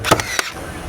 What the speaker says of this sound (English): Let's go ahead and throw a couple nails in.